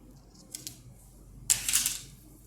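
Scissors snip through trouser fabric while a front-pleated pant pattern is cut, giving two short crisp snips followed by a longer, louder run of cutting strokes, close and without talk.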